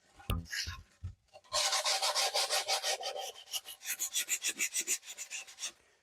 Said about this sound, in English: You go around the side and you just sand it down.